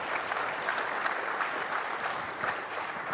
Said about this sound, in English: let's go ahead and give a brief round of applause for the panelists up here